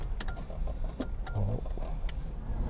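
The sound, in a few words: Mercedes R129 300SL engine starting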